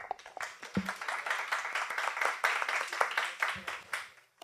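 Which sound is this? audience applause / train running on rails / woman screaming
audience applause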